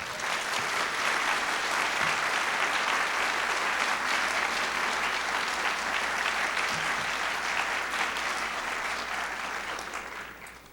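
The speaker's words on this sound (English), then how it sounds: "please join me in a round of applause in honoring Dennis Whittaker" Civic awards audience applauding in honor of Dennis Whittaker, a full, steady roar of clapping that holds for about ten seconds before tapering off at the end.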